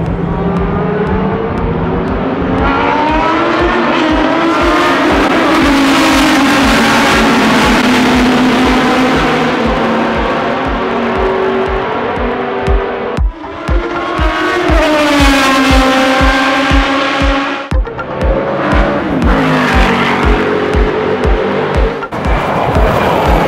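Vintage Formula One and Group C race cars at the historic Dubai Grand Prix roar past one after another, loud and close, engines screaming up and down through gears with repeated surging passes and Doppler sweeps, no talk.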